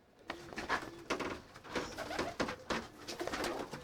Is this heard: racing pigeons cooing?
yes